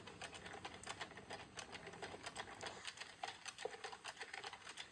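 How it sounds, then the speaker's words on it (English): Addi or Sentro circular knitting machine cranked slowly on its first row, giving a steady run of light, rapid mechanical clicks and clatter close by, with no talk. "we're going to knit slow for the first row, making sure that we have, those loops have time to get down over the red teeth"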